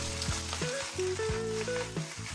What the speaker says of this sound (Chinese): 翻炒时要均匀，别让叶子闷在锅底，